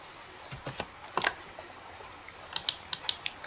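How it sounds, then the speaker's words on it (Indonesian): Quiet, close computer-keyboard typing comes in short bursts of crisp key clicks: a few taps early, a brief cluster near the middle, then a quicker run of keystrokes toward the end. "kemudian kita ketik bagian organisasi"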